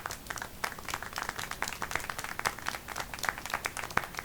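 Applause in the video game Syberia 4: a dense, steady patter of many hands clapping for about four seconds, fairly close and even in level, with no voices.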